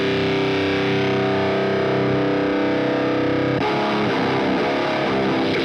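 A distorted electric guitar played through a Fortin NATAS pedal into an Orange Tiny Terror amp: loud, sustained saturated chords ring steadily, then give way to choppier, palm-muted chugging near the end, with no talking.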